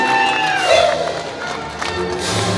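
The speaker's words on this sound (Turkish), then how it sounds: "Alkış olsun." Applause and cheering fill a wedding celebration in Istanbul, a dense, steady wash of crowd noise with scattered shouts that stays loud throughout.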